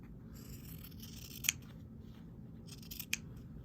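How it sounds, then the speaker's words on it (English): Scissors snipping through fabric quilt binding, a few quiet, sharp cuts spaced apart against a faint room hush. "So now I just take a pair of scissors,"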